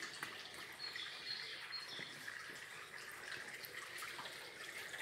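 Mineral spring water runs from a tap in a park at Geoagiu Băi, a faint, continuous splashing trickle heard from a little distance with faint birdsong in the background.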